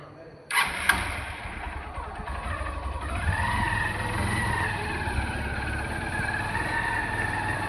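A motorcycle engine starts abruptly, then runs at a steady idle with a slightly rising whine, close and continuous.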